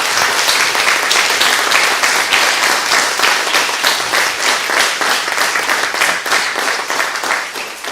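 A sustained round of applause for pupils at a school speech day, many hands clapping loudly and evenly throughout with no voices rising above it.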